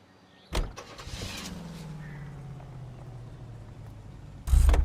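A car door thuds open and shut as a character climbs into a car in the video game L.A. Noire, followed by a steady low engine hum and a second loud door thump near the end, no talking.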